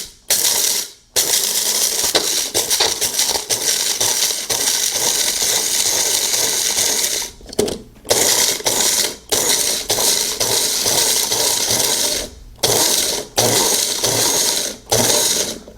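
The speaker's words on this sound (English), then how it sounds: "you can also grind up your coffee beans for nice fresh coffee" A Magic Bullet blender grinding coffee beans, loud rattling, clattering whirs in pulsed bursts with short silent gaps between them, close up and with no talk.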